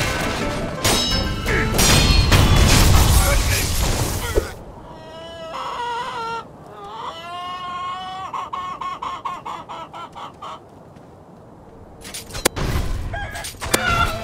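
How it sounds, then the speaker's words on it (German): In the video game Sekiro, a rooster crows in a drawn-out, warbling call after a loud crash of game noise, with further clucking bursts and game sounds around it. "Der Hahn, Alter! Der Hahn!"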